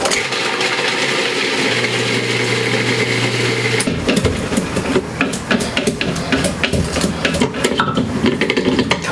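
A blender grinds garlic with salt, lemon juice and oil, starting with a steady whirring drone, then turning rougher and choppier with rattling, knocking bursts as the contents churn, loud and close, no one speaking.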